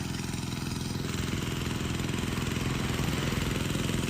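A small engine driving a pesticide sprayer pump runs at a steady pace, with a loud, continuous mid-pitched drone and no speech over it.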